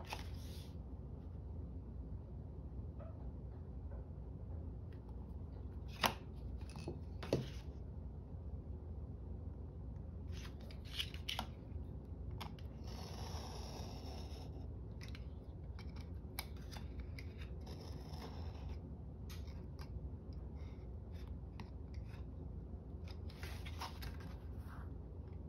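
Scissors snip through craft paper for a small Christmas folio, giving scattered crisp cuts and a few longer slicing strokes, faint and close in a quiet room with no talk.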